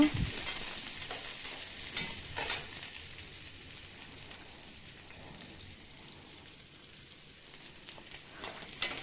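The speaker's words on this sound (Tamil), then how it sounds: "நம்ம வெட்டி வச்சுருக்கோம்ல சின்ன வெங்காயம் அதை எடுத்து போட்டு நல்லா வணக்கி விடுங்க" Small shallots sautéing in a pan for Kongu-style Pallipalayam chicken give a steady, close frying sizzle, with occasional scrapes and stirring knocks against the pan. No voice is heard.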